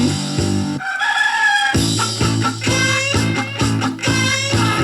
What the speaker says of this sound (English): A crazy chicken chasing me all over town.